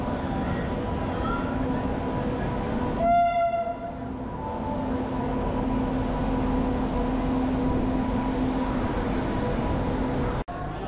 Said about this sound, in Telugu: ఇంకా ట్రైన్ రాలేదు, మంది వేరే ట్రైన్ వస్తుంది, చూసారు కదా